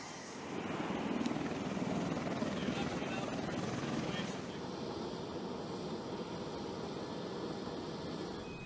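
A CH-53K King Stallion heavy-lift military helicopter flies overhead with steady rotor thumping and a dense turbine roar that stays loud and constant throughout, swelling slightly early on.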